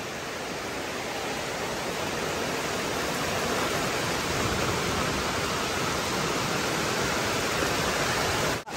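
Flood water rushing through a house kitchen, a dense, steady roaring wash of broadband noise that stays loud and unbroken from start to end, with no voices.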